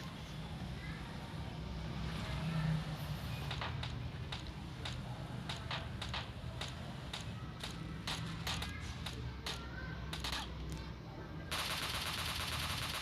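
Rapid gunfire in PUBG Mobile Lite, a run of sharp shots fired in quick bursts over a steady low engine rumble, likely from a boat, with a voice faintly present underneath.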